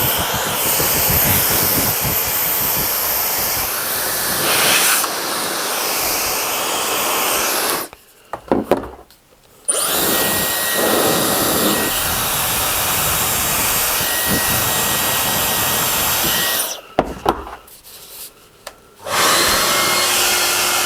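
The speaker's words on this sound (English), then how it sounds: "There's no easy way to show you guys what the hairdryer can do unless I actually dry my hair" A hair dryer marketed as a cheaper Dyson Supersonic alternative blows a loud, steady airy whoosh up close, cutting out abruptly twice for a couple of seconds before starting again; no one speaks.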